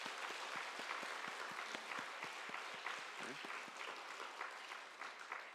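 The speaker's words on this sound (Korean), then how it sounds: "우리 주님 앞에 한번 박수로 한번 영광을 돌리도록 하겠습니다" Church congregation applauding during a Sunday morning worship service, steady sustained clapping from a roomful of people that carries on throughout, with a voice speaking faintly underneath.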